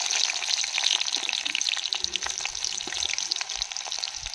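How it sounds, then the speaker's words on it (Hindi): Chopped onion pieces frying in a pan for a desi-style duck curry, giving a steady, close hiss of sizzling oil with faint crackles and occasional stirring scrapes throughout. "दोस्तों प्याज का कटा हुआ पीस डाल लेते हैं"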